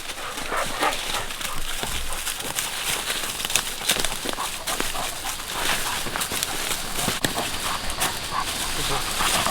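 Walker coonhounds gathered at a tree with a treed raccoon at night, barking and bawling in a steady, continuous din, with people talking and calling encouragement over the dogs.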